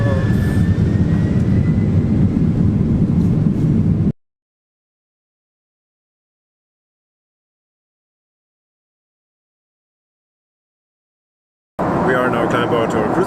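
A commercial jet roars on its takeoff run from inside the cabin, a loud steady rumble of engines; a long silent gap follows before the engine noise returns.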